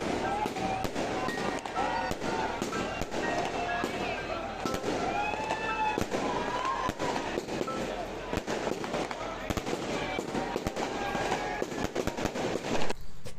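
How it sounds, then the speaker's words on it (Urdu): Dense New Year's midnight fireworks in the Naran bazaar crackle and pop continuously, sharp bangs overlapping throughout amid crowd noise and voices talking nearby. "آپ دیکھ سکتے ہیں کہ یہاں کتنی آتش بازی ہو رہی ہے۔"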